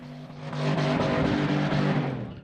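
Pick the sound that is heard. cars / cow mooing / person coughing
cars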